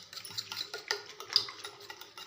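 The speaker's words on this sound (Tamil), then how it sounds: "நல்லா அடித்து விட்டுடலாம்." Egg mixture with turmeric and salt is beaten briskly in a bowl, giving quiet rapid clicks and taps of utensil against dish in an uneven rhythm.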